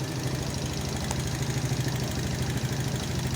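An engine runs at a steady idle while its carburetor pilot jet is adjusted, giving a close, even, pulsing low rumble throughout with no voices.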